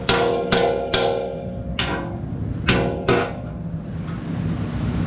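Sharp metallic hammer taps drive bushings into a 2015+ Ford Mustang S550 rear subframe, six distinct strikes at uneven intervals, close and fairly loud with ringing decay.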